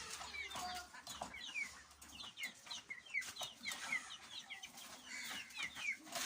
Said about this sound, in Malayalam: അവിടെ കുഞ്ഞ് കറുത്ത കോഴികൾ, ഒരു വെള്ളക്കോഴി, നല്ല കുഞ്ഞു കുഞ്ഞുങ്ങളുണ്ട്